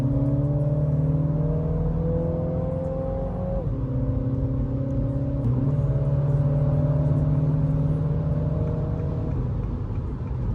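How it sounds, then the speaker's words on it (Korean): A Mini Cooper S with its variable exhaust open in sport mode accelerates, giving a steady, fairly loud and light-toned exhaust drone that rises in pitch, drops with a gear change and climbs again, heard from inside the car. "가변 배기가 열려서 배기음이 꽤 크게 들려와요."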